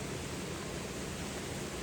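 Water flowing steadily, heard as a soft, constant broadband rush with no breaks and no voices, faint and close.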